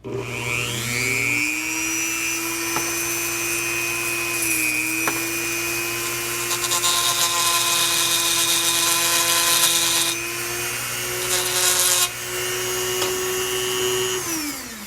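A rotary tool notches the oil galley hole in the case of a 2054cc stroker VW Bug engine, giving a loud, steady high whine for about fifteen seconds with slight shifts in pitch as it bites the metal.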